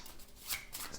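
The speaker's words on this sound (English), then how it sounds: "what I like to do is either shuffle the cards up a bit more" Playing cards being shuffled, a brief, quiet riffling flutter lasting about a second, close by with no talking.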